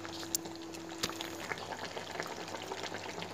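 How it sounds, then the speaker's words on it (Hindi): Mutton pieces sizzling in oil in a karahi for Peshawari namkeen gosht, a steady, fairly quiet crackle and hiss throughout, with a couple of brief clinks. "ये देखिए, गोश्त को मैंने कढ़ाई में डाल दिया है, ऑयल भी साथ।"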